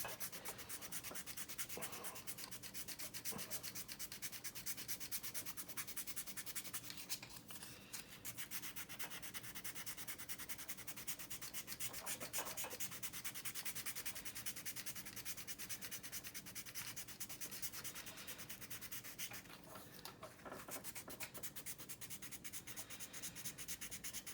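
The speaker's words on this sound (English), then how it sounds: "I'll just go ahead and sand this, and then you'll be able to see how it filled in all this area" Steady dry rubbing of sandpaper across a hardened CA glue and metallic pigment filler, continuous close strokes at low level with no talk.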